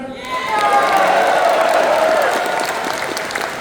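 Loud convention crowd at a furry-fandom closing ceremony applauds and cheers continuously, dense clapping with whoops rising over it, a voice briefly audible at the start.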